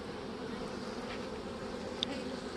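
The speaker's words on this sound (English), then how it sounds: "There's already bees back up on there." A steady, close swarm of honey bees around hive frames of a mating nuc drones continuously, a dense buzzing hum with occasional individual bees passing nearby.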